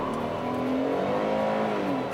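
A 2017 Kia Cadenza SX-L full-size sedan engine revs as the car accelerates, a steady close-up drone rising slightly in pitch and continuing without pause, with no talking.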